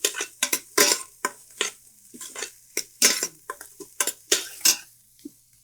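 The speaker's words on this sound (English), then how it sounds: "The whole onion goes in there. Light saute." A whole onion sautés lightly in a pot; bursts of stirring, scraping and clinking cookware come and go against a quiet background, with only a faint sizzle.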